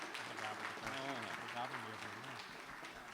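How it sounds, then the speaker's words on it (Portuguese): Applause from a lecture audience rises as a steady wash beneath someone speaking loudly over it, the clapping continuing throughout at a moderate distance. "Uma salva de palmas novamente para o nosso doutor Alexis"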